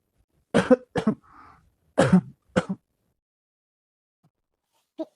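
Several sharp, close coughs in two quick pairs, with a brief throat sound between them, then silence and one last faint cough.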